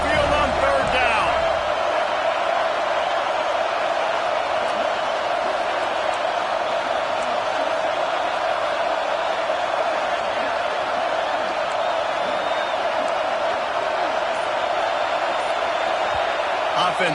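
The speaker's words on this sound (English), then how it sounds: "The Tide crowd roaring noise down onto Saban Field on 3rd down." Dense, steady roar of a home Alabama Crimson Tide stadium crowd on third down at Saban Field in the NCAA 26 football video game, loud and sustained throughout with a faint voice under it.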